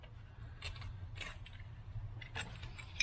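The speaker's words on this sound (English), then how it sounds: "bolt this little flange back on here" Exhaust flange being bolted back onto a Kawasaki Z950 motorcycle: a few faint metallic clicks and ratcheting taps, scattered and close, over a steady low hum.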